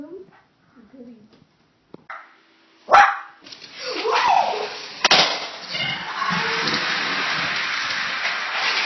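A dog in a short film gives sharp, loud barks up close after a few quiet moments, with a second burst shortly after, then a sustained noisy rush continues to the end.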